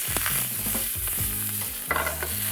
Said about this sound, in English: First thing I'm gonna throw in here is the onions. Pan is super hot.